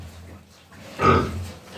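A pig grunting on a farm where sows are bred, a single short low grunt in the middle of the clip, fairly close, with quiet barn ambience around it.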